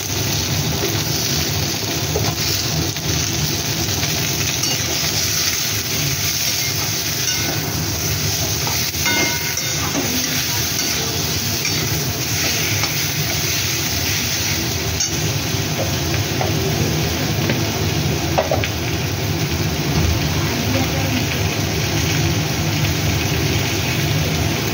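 An electric mixer grinder runs continuously, grinding raw plantain peel with salt, giving a dense, unbroken whirring roar from start to finish.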